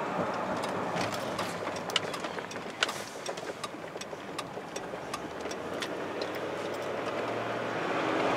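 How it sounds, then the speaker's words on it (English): A car with a slipping transmission runs under throttle, its engine sound steady and moderately loud with a slight rise toward the end. "Now you step on the gas, it goes."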